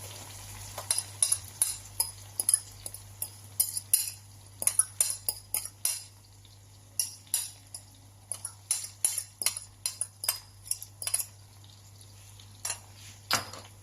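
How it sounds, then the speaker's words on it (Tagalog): Egg scrambled with tomato in a frying pan, with a soft sizzle under dozens of quick, irregular clinks as a utensil strikes the pan. "Next natin ilagay ang ating egg."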